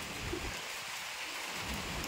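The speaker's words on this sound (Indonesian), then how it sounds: "Beneran jatuh hujannya teman-teman." Steady rain falls on a hot Monday afternoon during the first rain of the season near a chili garden, a dense, even hiss filling the whole stretch with no voices.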